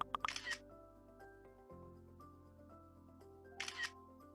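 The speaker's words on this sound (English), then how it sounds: "Let's take a couple more practice selfies now by tapping the Capture button." iPhone selfie camera shutter firing twice, a short crisp click at the start and another near the end, faint against a soft sustained musical background.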